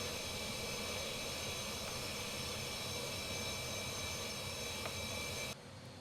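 Steady, loud jet engine roar from an airliner in a flight simulator game, a continuous broadband whoosh with a high whine on top, dropping in level near the end.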